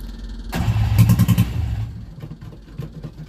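An old engine with no accelerator pump, running on starting fluid, cranks and catches with a sudden loud burst, a few rapid rhythmic firing pulses near the mic, then settles into a rougher, quieter idle.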